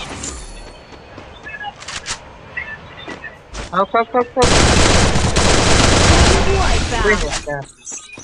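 Rapid automatic gunfire in the Free Fire mobile battle royale game, loud and close, bursting out after a few scattered shots and clicks while a player talks over it.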